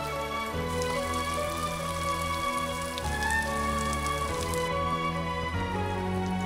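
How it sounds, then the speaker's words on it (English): Heavy rain pours on a mountain campsite on Mt. Apo, a constant drumming hiss under sustained musical tones. "The rain started pouring even harder."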